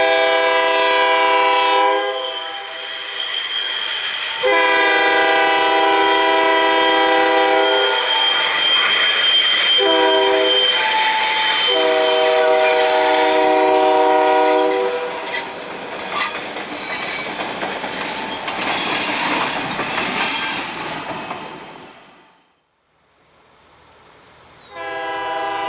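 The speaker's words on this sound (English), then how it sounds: "the now light-power UBHF returns to Union Bridge with Maryland 2060 in original Maryland Midland paint leading the train." A Maryland Midland light-power freight train, locomotive 2060 in original paint, passes close with loud, repeated horn blasts over rumbling wheels. The horn sounds in several separate blows before the train fades away into near silence.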